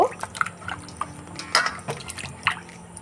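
Raw mangoes are washed in a bowl of water for pickle, giving irregular splashes, drips and sloshing bursts close by, about a dozen soft watery knocks over a few seconds with no talk.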